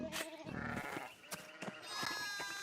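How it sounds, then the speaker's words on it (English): Sheep bleat in the medieval murder-mystery video game Pentiment, several wavering calls close together over a soft game ambience and gentle music. "Nope, just sheep."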